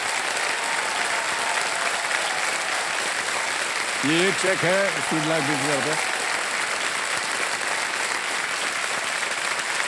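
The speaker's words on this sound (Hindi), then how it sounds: "ताली बजाएं उनके लिए।" Steady, loud applause from a TV quiz-show studio audience fills the stretch, a dense continuous roar of clapping, while someone speaks briefly over it midway.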